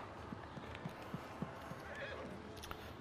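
A horse in the medieval video game Bannerlord whinnies while its hooves clip-clop in a steady, regular beat under quiet game ambience.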